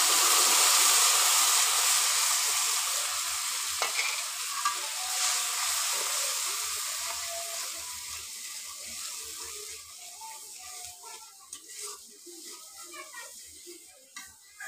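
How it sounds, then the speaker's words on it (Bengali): Cumin, sweet cumin, turmeric, chili and salt mixed in water fry in hot oil, a loud steady sizzle that slowly fades, with scattered stirring scrapes and clatters. A voice talks faintly underneath. "মশলাগুলো ভালো করে ভেজে"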